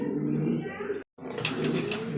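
Pigeons coo softly and low, broken by a brief silence, then more cooing with scuffling and voices nearby.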